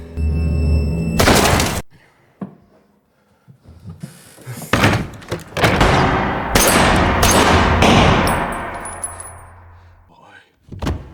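Loud, sharp gunshots ring out in a scene from the film In Bruges, several bangs spread across the scene. Quieter gaps fall between them, with other film sounds and voices around.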